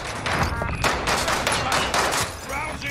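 Loud, dense automatic gunfire crackles in a Warzone match, with overlapping rapid bursts and sharp shots filling the whole stretch and close in the mix.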